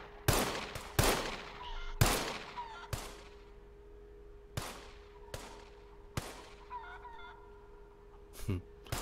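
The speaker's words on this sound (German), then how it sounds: "Auf jeden Fall hat man einen geilen Sound dabei von den Hühnern." Chicken clucks from in-game poultry in the video game SCUM, faint and scattered beneath a steady hum, repeatedly cut through by loud, sharp bangs like gunshots.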